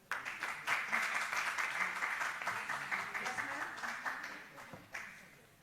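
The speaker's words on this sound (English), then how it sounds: "A round of applause, please." Audience applause at a capacity-building workshop: steady, fairly close clapping from a room of people, sustained across the clip with slight swells and a fresh burst near the end, with voices faintly mixed in.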